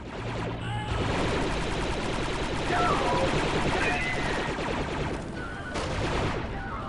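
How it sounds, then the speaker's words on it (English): A gun emplacement fires in the Star Wars Republic Commando video game, a sustained rattle of rapid blaster shots and booms, loud and steady across the whole stretch, with a radio voice briefly mixed in. "There is a gun position near your location preventing our troops from advancing."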